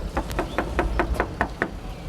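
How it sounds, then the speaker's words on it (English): Knocking on a door, eight evenly spaced firm raps in a steady rhythm, close and clear with no talking. "so I knocked on the door."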